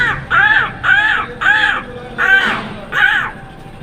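A man imitating a crow's caw, giving five or six harsh, evenly spaced calls in a steady rhythm, close and clear against a quiet background.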